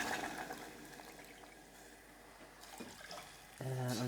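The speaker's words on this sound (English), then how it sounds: "when the quinoa is getting fragrant, it's time to add some water" Water pours into a pot of toasting quinoa on the stove, a steady rushing splash that fades and returns, ending in a louder hiss as it hits the hot pan.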